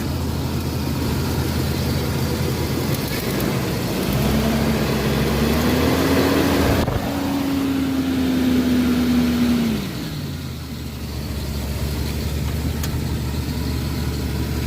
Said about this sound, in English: Rev engine with loads off.